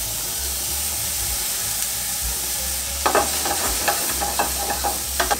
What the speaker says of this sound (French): Je vais mettre mes escalopes dans la poêle, sans matière grasse.